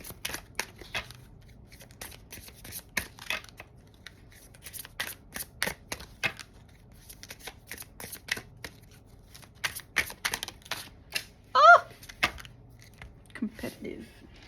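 Tarot cards are shuffled in quick, irregular bursts of crisp riffling and slapping, close and fairly quiet, with a brief voice near the end.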